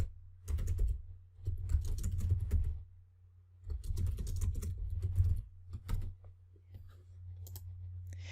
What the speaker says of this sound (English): I edit the text and type in my tagline.